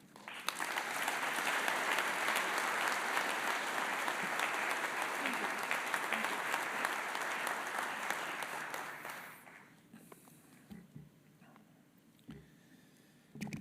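Sustained audience applause greeting the chancellor at an evening event, loud and steady for about nine seconds before thinning to a few scattered claps.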